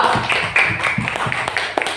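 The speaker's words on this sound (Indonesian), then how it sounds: "Silakan tepuk tangan untuk kelompok 2" Students in an Indonesian school classroom clap for a group that has just presented, a short burst of scattered, irregular hand claps at moderate volume with some background noise.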